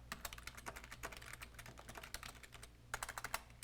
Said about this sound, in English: And here is where we type our long series of things that Harry is just babbling out.